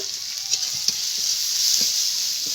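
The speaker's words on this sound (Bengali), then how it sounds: "ভালো করে ভেজে নেব।" Food fries in a pan with salt and turmeric, giving a steady close sizzle with occasional soft stirring scrapes and taps throughout.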